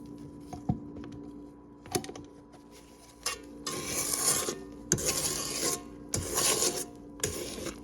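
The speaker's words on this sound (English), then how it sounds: "I'm gonna scrape down the bowl." A spatula scrapes down a mixing bowl of strawberry shortcake batter: a few sharp taps, then a run of close, raspy scraping strokes in bursts, with no talking.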